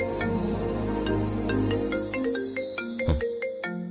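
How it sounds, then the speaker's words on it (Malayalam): A phone ringtone plays a bright, repeating electronic melody over a low sustained tone, loud and close, with no voices. "ഫോൺ."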